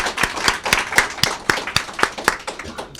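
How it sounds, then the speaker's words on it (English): Scattered applause at an awards presentation, a few distinct sharp claps spaced out in an uneven rhythm, close and fairly loud, with no talking. "Can we get a round of applause for Joseph one more time?"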